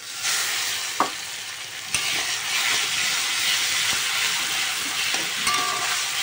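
Onion and garlic frying in a pan give a steady, close sizzle and hiss throughout, broken by a couple of sharp clacks from stirring.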